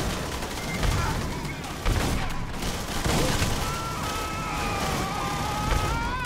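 Rapid gunfire and explosive blasts from a grenade attack in the sci-fi shooter Aliens: Colonial Marines, a dense continuous barrage with heavier bursts near two and three seconds, loud and close throughout.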